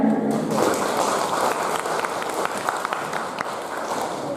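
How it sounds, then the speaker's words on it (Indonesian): Dense, steady applause fills a room at a gathering where actors from Bantul reject drugs, many hands clapping together at moderate loudness for over four seconds with no pause. "tepuk tangan untuk kita semuanya"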